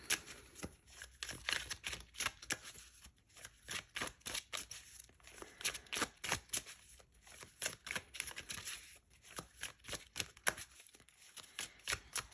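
Divination cards are shuffled by hand in repeated quick riffling bursts, crisp and close, with short pauses between runs and no talking.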